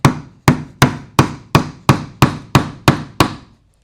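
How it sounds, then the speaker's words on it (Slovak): A crooked nail driven with an iPhone 17 Pro used as a hammer: ten sharp, loud, close strikes in a steady rhythm about every third of a second, each ringing briefly before the next, with no talk. "A ideme si pribiť klinec, tento krivý, pomocou iPhone 17 Pro."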